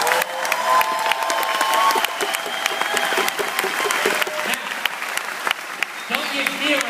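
An audience claps loudly and continuously throughout, a dense, close burst of applause with scattered cheers from the crowd.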